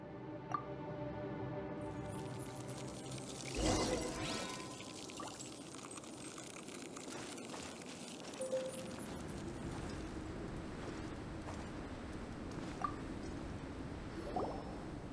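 Water pours in a video game as a steady, faint stream that runs for about fifteen seconds, with a few brief drips and splashes rising above it.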